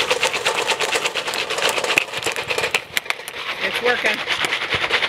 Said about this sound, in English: Oh, you can start to hear it pop.